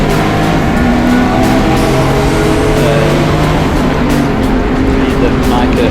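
Turbocharged BMW E36 328i race cars in a circuit race at Zwartkops, heard as a loud, continuous engine roar that stays steady and dense throughout, with speech-like sound mixed into it.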